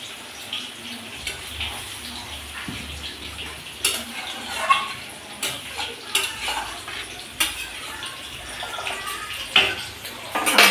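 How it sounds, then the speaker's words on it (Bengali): Water poured into a pan of fried potato, teasel gourd and other vegetables sets off a steady low sizzle, with a utensil stirring and scraping the pan in irregular clinks close by. "দিয়ে দিচ্ছি পরিমাণ মতো জল"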